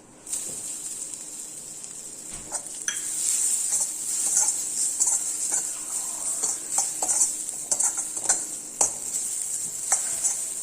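Grated coconut dry-roasting in a pan, with a soft steady sizzle and intermittent scraping and clinking of a spoon stirring against the pan, close and moderately quiet.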